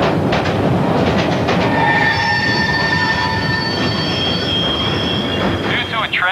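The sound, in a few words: train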